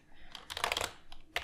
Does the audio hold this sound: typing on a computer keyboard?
yes